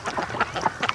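A flock of domestic ducks quacks close by in a rapid string of short, raspy calls on a cold afternoon, several birds overlapping with no speech.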